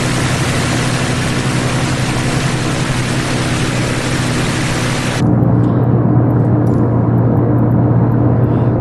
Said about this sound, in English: we've started the engines up. Everything is humming.